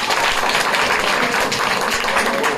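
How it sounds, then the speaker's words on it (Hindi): A group of schoolchildren claps together in a coaching class, a dense, steady patter of many hands that holds loud and even from start to finish, with no voices above it. "जोरदार एक ताली बजाइए बच्चों"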